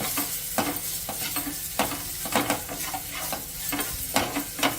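Capsicum frying with pepper powder, garam masala and salt in a pan, a continuous close sizzle with regular scraping stirs of a spatula at a steady rhythm, no voices.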